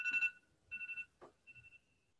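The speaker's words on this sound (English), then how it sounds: "oven notification." An oven's electronic notification chime plays as a quick series of faint beeping tones in a few short bursts, heard in a quiet room with a soft thump between them.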